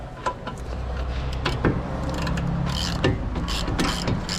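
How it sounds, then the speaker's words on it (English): Ratchet wrench turning a bolt during rear wheel bearing replacement on a 2016 Cadillac SRX, a run of quick close clicking and mechanical ratcheting with small knocks and rattles, no talking. "Let's switch to a smaller ratchet then."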